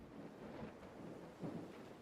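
A stormy sea in the Assassin's Creed Black Flag video game: a steady wash of rain and wind noise with low rolling thunder rumbles, plus a brief swell about two-thirds through, fairly quiet overall with no voices.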